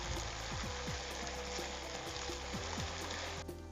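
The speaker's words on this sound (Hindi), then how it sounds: "इसमें फौरन हम अदरक और लहसुन का पेस्ट मिला देंगे। और इसको 2-3 मिनट तक भूनेंगे।" Ginger and garlic paste sizzles steadily in hot oil while cooking for goat trotters, a continuous close frying hiss with occasional faint stirring knocks.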